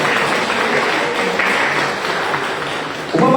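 Congregation clapping hands during a Sunday church service, a dense steady patter of many palms that runs throughout and gets a little louder at the end.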